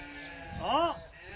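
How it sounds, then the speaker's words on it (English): A single short sheep bleat, close and clear, rises briefly over a quiet outdoor background on a farm. "Oh, you know this is a sheep Andre could have got."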